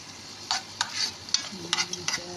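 Garlic and butter are stirred in a hot pan while cooking shrimp, with quick bursts of spoon scraping over a low sizzle, close and fairly loud, with no talking.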